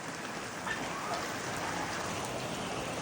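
Rain falling outside in steady, dense hiss, with scattered drops pattering on surfaces, moderately faint and continuous across the whole stretch.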